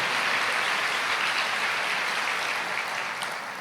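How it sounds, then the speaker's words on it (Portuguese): Steady applause from a church congregation fills the room in a dense, even wash of clapping, fading slightly toward the end. "pode aplaudir."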